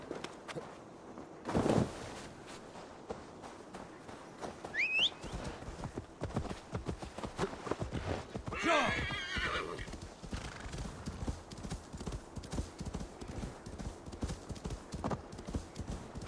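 Horse hooves clop steadily at a quick pace throughout in the video game Assassin's Creed Valhalla, with a horse whinnying partway through and a couple of sharp bursts of noise.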